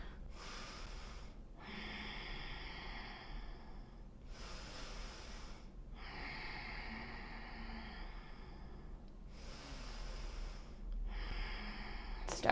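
Deep breathing held in a yoga warrior 2 pose, three slow rounds of audible inhales and exhales through the nose, close and even, with no talking.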